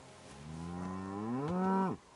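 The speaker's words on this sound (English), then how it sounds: "Ooh, a cow." A cow in Kingdom Come Deliverance II lets out a single long moo, rising in pitch toward the end before cutting off abruptly, clear and fairly close.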